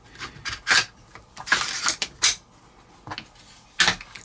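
Metal parts of a Daniel Defense DDM4 V7 rifle bolt carrier group being handled and fitted back together, with several short close clicks, scrapes and rubs in irregular bursts, alone with no talking.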